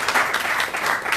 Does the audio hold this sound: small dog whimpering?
no